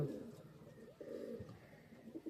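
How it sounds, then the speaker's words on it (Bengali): Domestic desi pigeons held in the hand make low, close cooing and soft restless sounds, with brief bursts of fluttering movement and no talk. "পায়রাগুলো বেশি ছটপট করছে কারণ এইগুলোকে বেশি আমরা ধরি না"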